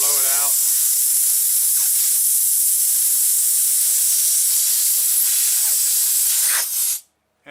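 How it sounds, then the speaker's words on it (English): Sustained hiss of compressed air blasting through the jet of a dirty Toro Recycler lawn mower carburetor, loud and continuous, cutting off sharply near the end before a brief restart. "I'm just going to take the air and blow it out."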